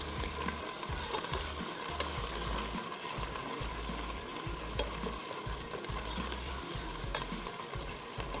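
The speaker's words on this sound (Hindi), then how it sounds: "लहसुन अदरक का पेस्ट डालेंगे और डाल देंगे चिकन। और अच्छे तरीके से सौते करेंगे।" Chicken sautés with garlic ginger paste in a hot pan, giving a dense, constant close sizzle with occasional stirring scrapes and no talk.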